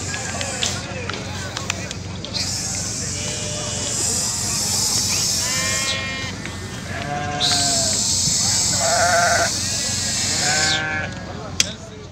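Beylagan sheep at a livestock market, bleating loudly and repeatedly at close range, several calls overlapping one another over a steady background hubbub of the market.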